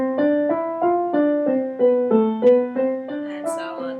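A piano plays a Hanon finger exercise descending two octaves, with evenly spaced notes stepping downward in a steady repeating pattern, heard close and alone.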